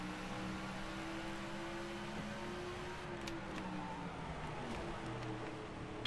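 Race car engine in NASCAR The Game 2011 droning steadily at the Kobalt Tools 500, its pitch climbing and shifting as the car accelerates, with other cars' engines layered in a continuous loud roar.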